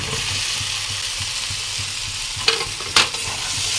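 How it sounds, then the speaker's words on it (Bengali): Fried potatoes and fish-roe fritters are stirred into frying masala for a fish egg curry, with a steady loud sizzle and two sharp utensil knocks against the pan near the end. "এখন দিয়ে দেবো ভেজে রাখা আলুগুলো আলুটা দিয়ে খুব ভালো করে মশলার সঙ্গে মিশিয়ে নিচ্ছি"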